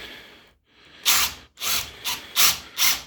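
A screw being driven toward a wall while preparing for wall plastering, heard as four or five short, loud grinding bursts separated by brief pauses, close up and without talk.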